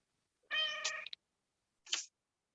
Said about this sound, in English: Gotta love a talkative cat.